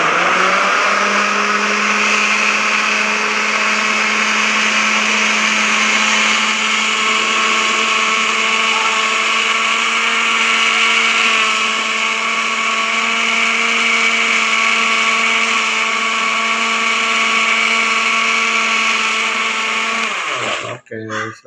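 A kitchen blender runs steadily on pumpkin and water for pudding, a loud continuous whirring motor drone that holds for about twenty seconds before cutting off abruptly at the end.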